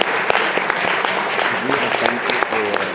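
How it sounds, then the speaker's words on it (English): An audience at an alumni reunion event in San Jose gives event volunteers a sustained round of applause. The clapping is dense and steady throughout, with some voices mixed in. "A huge round of applause to them."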